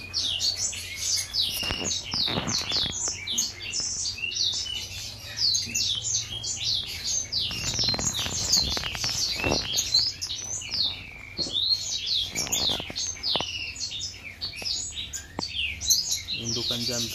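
An Aceh white-rumped shama (murai batu) sings in a continuous stream of bright, rapid whistles and chirps, close and loud throughout, with a few low knocks and rustles underneath.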